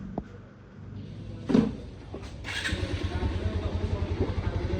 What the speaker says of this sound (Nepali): अब म बाइक स्टार्ट गर्न गइरहेको छु